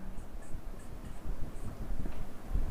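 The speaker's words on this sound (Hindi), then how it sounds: "तो हम यहां लिखेंगे" A pen scratching on paper, with a steady, soft, close scraping of continuous strokes and faint irregular taps.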